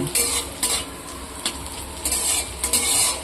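Green chillies fry together with ginger and garlic in a hot pan, giving a loud continuous sizzle broken by a few sharp spatula scrapes and stirs, with no talk.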